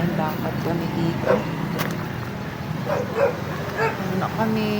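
Dogs yip and bark intermittently in the background over a low hum of outdoor street noise in a quiet Philippine neighborhood.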